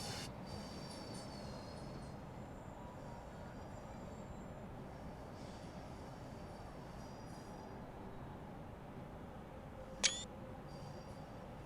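In Train Sim World, a single sharp camera shutter click sounds near the end over a quiet, constant rumble of a Class 350 train on the Birmingham–Crewe West Coast Main Line.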